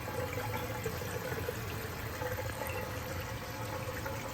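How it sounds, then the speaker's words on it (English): A waterfall faucet runs into a bathroom vanity basin with a steady, soft, even flow of water that stays constant throughout. "It's called a waterfall faucet."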